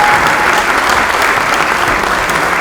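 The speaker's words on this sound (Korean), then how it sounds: "여러분 축하의 박수 크게 부탁드리겠습니다." Congratulatory applause from party members at a national assembly caucus meeting for newly elected deputy speaker candidates, loud continuous clapping from a large room with no voices.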